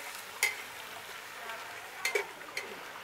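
Frozen spinach thaws and sweats in a pot, a faint low sizzle with a few soft scraping stir clicks, quiet and close with no talk.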